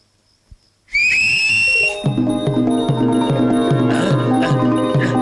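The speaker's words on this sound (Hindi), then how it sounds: "सीटी बजाने से वो नहीं आएगा।" Shrill whistling meant to call a horse, a sharp piercing note bursting in after near-silence, then giving way to loud dramatic film music with a repeating rhythmic pulse.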